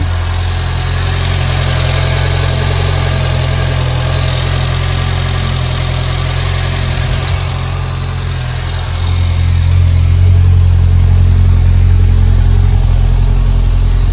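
A 1.1-litre Renault 5 engine idles with a steady low hum and rattle, rising slightly in pitch and loudness partway through.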